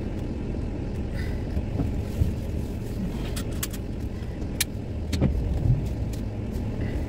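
Car pulling out of a car park toward a main road: a steady low engine and road rumble heard from inside the vehicle, with a few light clicks and thumps over the continuous drone.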